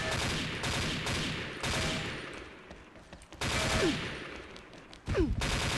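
A shotgun fires in a video game as several sharp, loud blasts in quick succession, each followed by a short decaying tail, with brief gaps between bursts.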